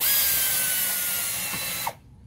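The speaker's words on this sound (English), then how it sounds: "I'm putting this bolt in this control man." Power tool whirring steadily as it drives a bolt into a control unit outdoors, close and fairly loud for about two seconds before stopping abruptly with a brief click.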